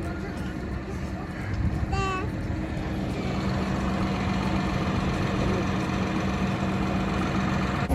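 A tractor engine idles steadily with a low, even rumble that runs throughout, while people talk nearby.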